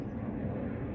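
Steady low rumbling roar of an airplane passing, constant and broad, filling the background without pause.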